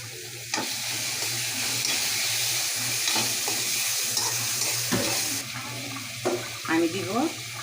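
Tomato and onion fry in a pan with dried chili and cumin paste added, giving a continuous sizzle broken by scraping stirs and clinks, with brief water sounds and a short spoken phrase near the end.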